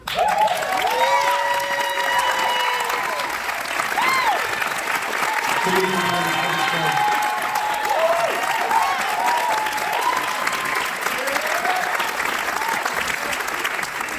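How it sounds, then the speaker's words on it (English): An audience at a theatre awards ceremony gives a sustained, loud ovation, with dense clapping continuing for over ten seconds as scattered voices and whoops rise above it. "I want to just have a special encore ovation for Dr. Camila."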